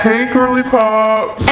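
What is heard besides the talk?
None of the usual background noises is heard.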